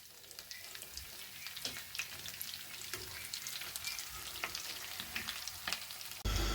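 Bread toast sticks sizzle and crackle in hot oil, a dense steady frying hiss with scattered pops, close and fairly quiet, ending in a brief louder bump, with no talk.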